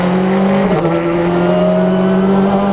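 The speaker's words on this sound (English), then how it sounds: "It feels like a racing car, unsurprisingly." A 2015 Honda Civic Type R BTCC racing car engine hums steadily at low revs, then rises slightly as it accelerates, loud and close, with a harsh, buzzing drone throughout.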